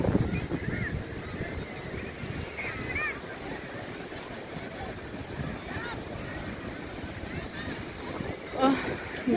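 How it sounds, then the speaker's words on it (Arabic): Sea waves and wind at the beach in Ras El Bar at sunset, a steady broadband wash of surf with gusty wind buffeting the microphone, close and continuous throughout, with faint voices in the background. "ويسمعوا صوت البحر"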